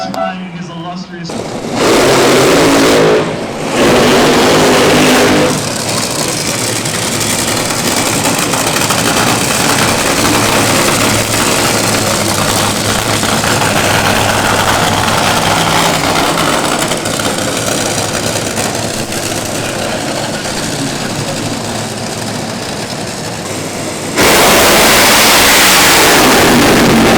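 NHRA drag racing cars at the Midwest Nationals accelerating at full throttle, a dense, loud, sustained engine roar that fills the track for over twenty seconds, with crowd noise underneath.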